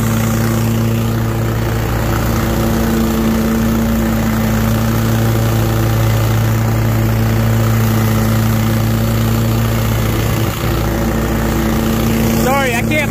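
A lawn mower engine runs loud and steady nearby for the whole stretch, a constant drone with a voice speaking briefly over it near the end.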